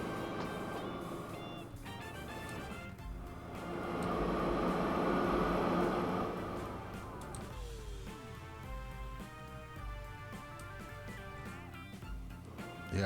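Steam train in the Train Fever game passing a level crossing, a continuous rumbling rolling sound that swells in the middle, with tonal whistle-like and signal tones layered over it, no voices.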